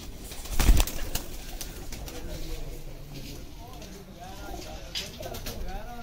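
Breeder pigeons on a rooftop coo in soft, low rolling calls, with a sharp bump near the start and someone talking over the birds for much of the time.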